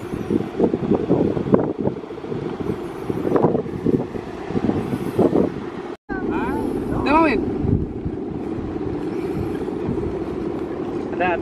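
Wind blowing across an open kite-flying field at Padanggalak, Bali, where large kites are flown, heard as a loud, continuous gusty rush buffeting the microphone, with faint voices underneath.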